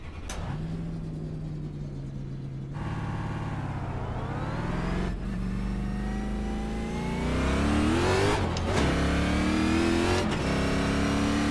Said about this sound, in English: So fire the car back up to be able to try to get out in front of the pace car.